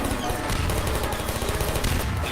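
Turrets in Portal firing a dense, rapid stream of gunfire, loud and continuous throughout with no voices.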